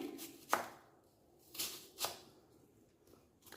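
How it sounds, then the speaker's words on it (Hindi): Onions being chopped in a hand chopper, a few soft, quick chopping bursts spaced apart, close and fairly quiet with no voices. "प्याज को इस तरह से करके चॉपर में अंडे वाली प्याज की तरह चॉप्ड कर लेंगे"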